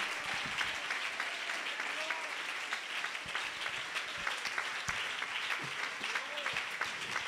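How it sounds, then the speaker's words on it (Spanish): A church congregation applauds during a morning service, sustained crowd clapping with scattered sharper claps and occasional voices and shouts mixed into the steady ovation. "Dele ese aplauso al Señor en esta mañana"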